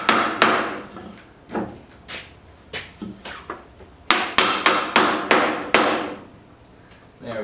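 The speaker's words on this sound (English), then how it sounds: "You're just going to tap it that last inch onto the hammer." A hammer taps a monkeypod wood floating shelf into place again and again, sharp knocks in irregular bursts, then a quicker run of firm strikes, close and clear.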